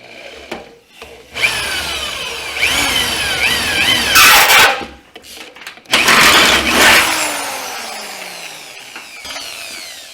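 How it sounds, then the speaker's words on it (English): A loud power drill whines and bites into wood in two long bursts, the motor pitch rising and dropping between them, close up, while fitting a fuel system for an LS engine swap. "drill another hole directly across from it"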